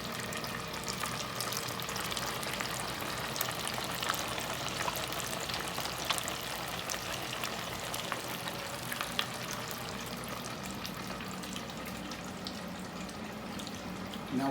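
Fish frying in hot oil, a steady crackling sizzle with a broad hiss that runs unbroken and fairly close throughout, alone without talk.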